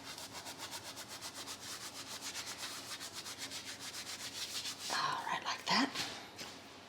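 Dried oregano rubbed between palms over chicken noodle soup makes a faint, rhythmic brushing rasp in quick repeated strokes, with a slightly louder crumbling at the end.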